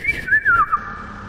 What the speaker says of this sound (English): Imagine hitting the gritty of the morning bird sound.